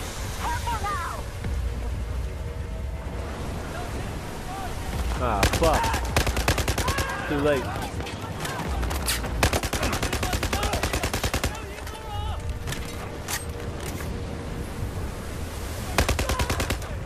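Rapid bursts of gunfire from Battlefield 4, loud and close, with automatic fire and repeated shots throughout, a noisy rumble of the game underneath and players' voices talking over it.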